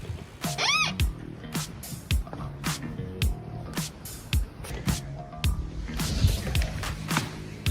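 A cat lounges outside a house in thick snow, giving a short meow near the start amid a steady run of sharp clicks and rustling noises close by.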